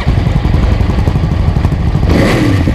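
A Yamaha SR400 motorcycle engine runs right after a kick start, giving a steady, close, rough mechanical rumble and clatter that swells a little near the end.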